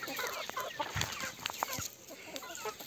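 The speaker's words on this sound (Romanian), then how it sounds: "Da, și am ajuns la găini." Several chickens, including Sussex hens, cluck and murmur nearby, a busy overlapping backyard flock sound with short sharp calls scattered through.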